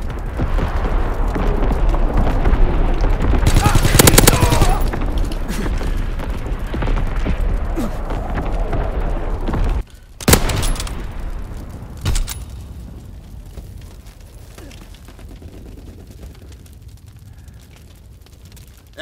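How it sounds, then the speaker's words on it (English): Incoming enemy artillery bombardment in Call of Duty: WWII, heavy booming blasts and rumbling explosions rolling continuously, with a sharp near impact around the middle and fainter scattered blasts trailing off afterward. "Incoming enemy artillery! Get to cover! Enemy bomb incoming!"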